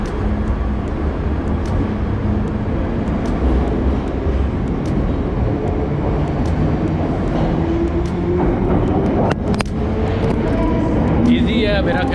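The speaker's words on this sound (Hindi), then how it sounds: "आज ट्रेन आ गई" A London Underground tube train pulls into a platform, a steady mechanical rumble with rising whine and squealing brakes toward the end, while someone talks over it.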